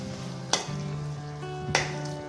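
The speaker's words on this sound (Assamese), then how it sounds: "এইখিনি মই অলপ ভালকৈ জহাম।" Tomatoes fry in hot oil for a fish curry, a soft steady sizzle with two sharp stirring scrapes about a second apart, close and without talk.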